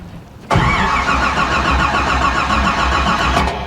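A supercharged car engine cranks and catches abruptly, then settles into a loud, steady, rough idle close by, with a slight rise in revs near the end.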